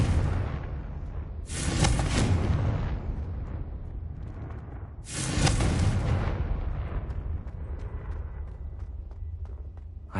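Confringo explosion spell cast in a Hogwarts video game: two loud, close blasts a few seconds apart, each a sudden roaring burst that fades into a long rumbling tail, with no talking.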